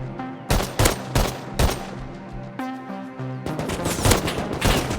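Automatic AK rifle fire in the survival game Rust, several sharp shots in quick clusters with short gaps, then a sustained burst at the end. There is no talking.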